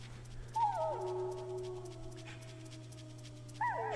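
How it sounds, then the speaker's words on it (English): Dogs whimper in the Metal Gear Solid video game: a few high, falling whines and yelps that trail off, with another whimper near the end over a steady low hum. "The dogs are over there."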